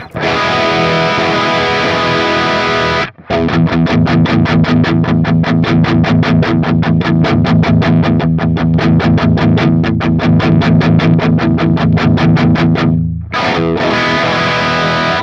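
Distorted electric guitar through a Helix amp model plays steady chugging chords, loud and bright, with a brief pause early and another near the end.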